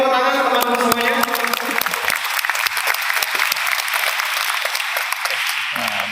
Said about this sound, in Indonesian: Untuk kita ini tepuk tangan teman-teman semuanya.